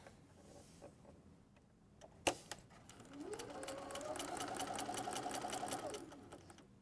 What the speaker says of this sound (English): We're going to sew all the way around, leaving about a 2-inch hole in the center for turning right side out.